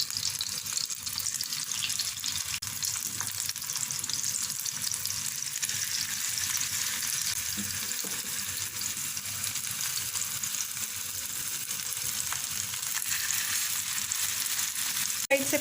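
Chicken seekh kebabs fry in a pan with a steady, even hiss of hot oil that stays moderately quiet and unbroken throughout, with no talking.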